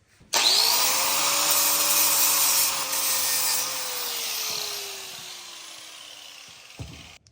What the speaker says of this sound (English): Grind off your tacks.